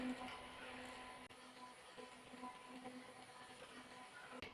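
A small fan blows on a face to dry setting spray, giving a steady close-up motor whir with a low hum that runs unbroken throughout.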